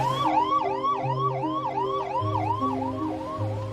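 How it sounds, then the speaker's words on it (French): An ambulance siren wails outside hospitals in New Delhi during the covid crisis, a loud, steady, rapidly cycling electronic yelp repeating close by, with lower horn-like tones underneath and no talking. "Des ambulances incapables de décharger leurs patients"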